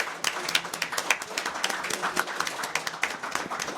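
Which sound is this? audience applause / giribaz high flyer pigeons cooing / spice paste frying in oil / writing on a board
audience applause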